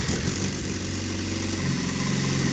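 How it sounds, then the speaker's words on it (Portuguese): A car engine running steadily after being started during an automotive electrical diagnostic check, with a constant close mid-to-low hum and a slight rise in low-frequency tone partway through, no voices. "Se eu funcionar o motor"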